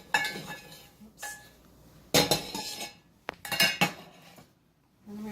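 A utensil scrapes and clinks against a pan as ground beef for a lasagna sauce is stirred, in short irregular bursts separated by quiet pauses, close and moderately soft.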